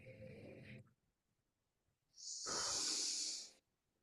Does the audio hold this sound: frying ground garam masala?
no